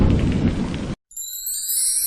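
Cartoon sound effect of rain and thunder: a loud dense downpour roar that cuts off abruptly, then after a short silence gives way to bright ringing tones.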